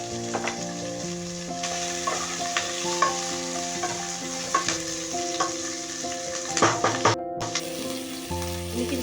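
Spring onions stir-fry over a high gas flame, a loud continuous sizzle broken by repeated scraping and clattering strokes of a spatula against the pan, no talk.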